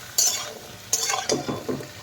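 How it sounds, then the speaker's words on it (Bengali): Chopped eggplant, beans and new potatoes fry in a pan, with several short bursts of sizzling and scraping as the vegetables are stirred, close and fairly loud. "সব সবজিগুলোকে খুব ভালো করে একটুখানি ভেজে নেব"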